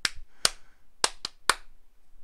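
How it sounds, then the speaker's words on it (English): Five sharp hand claps sound close and dry at uneven intervals, with a pause after the first two and the last three coming in quicker succession. "Clap, clap, clap, clap, clap."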